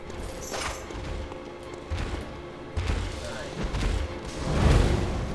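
A Molotov cocktail bursts into fire in the video game Bloodborne, with several dull booms and thuds building to a heavier blast near the end, under a person's talking.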